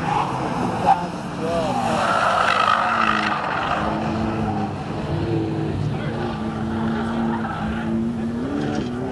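Cars lapping a race track at a track day with a 2012 VW GTI and a Lotus, engines droning and rising and falling through gear changes under continuous nearby talk.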